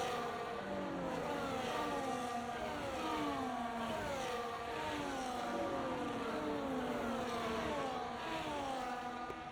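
Several F1 race cars from the F1 24 video game on the formation lap at Bahrain, a continuous, moderately loud engine whine with rising and falling revs overlapping throughout.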